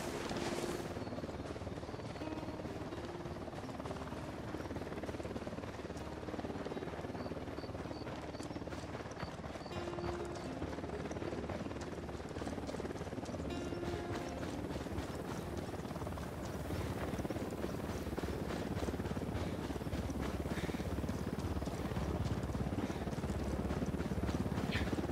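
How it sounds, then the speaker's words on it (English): In the video game Ghost Recon Wildlands, a helicopter approaches, its dense rotor thumping and engine roar filling the scene continuously and growing slightly louder toward the end. "Chopper's approaching."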